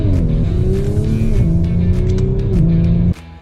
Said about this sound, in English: you actually just spun out the wheels there